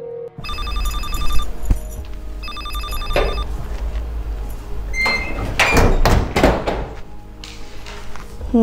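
A telephone rings indoors in two loud electronic bursts of rapid repeating tones, then stops, followed by clattering and rustling handling noises.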